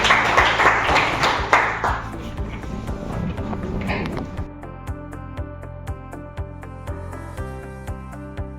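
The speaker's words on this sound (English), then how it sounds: "Round of applause for Sir." An audience at a college faculty development programme applauds after a session, a burst of clapping that fades within a few seconds before music and a voice take over.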